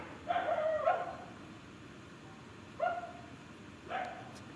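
Puppies bark and yip outdoors in a few short bursts, somewhat distant and fairly faint over a low background hiss.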